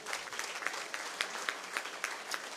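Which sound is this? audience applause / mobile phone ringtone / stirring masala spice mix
audience applause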